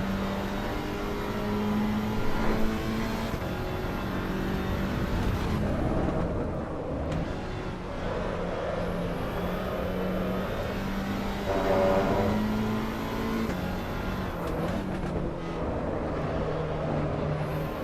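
Porsche race car in the racing game Assetto Corsa EVO, its engine droning steadily throughout with shifting pitch as it accelerates and lifts, a continuous mid-level whine with no talk over it.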